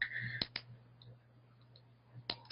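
Sharp mouse clicks sending an Edmodo poll to a class group, a close pair of crisp clicks early and another single click near the end over quiet room hum.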